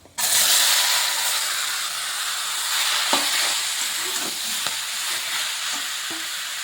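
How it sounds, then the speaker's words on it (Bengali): Leafy greens sizzle steadily in hot oil in a pan, a continuous bright frying hiss broken by occasional soft scrapes of stirring, close and fairly loud with no voices. "ভালোভাবে ভাজা ভাজা করে নিচ্ছি।"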